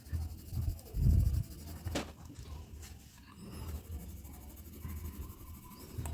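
Colored pencil burnishing over paper to smooth out its tooth, a soft, close scratchy rubbing in short irregular strokes, faint and quiet throughout.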